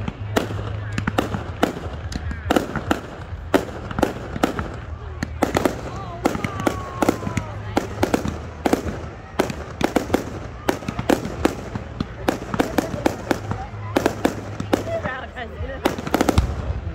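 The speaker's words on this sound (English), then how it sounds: "You don't see fireworks like this every day" Fireworks explode at Loch Sport in a rapid, loud barrage of cracks and bangs over seventeen seconds, with excited crowd voices and cheering underneath.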